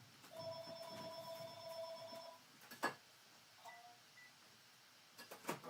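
Landline telephone ringing in a house, steady electronic trill for about two seconds, then quieter clicks and handling noises follow.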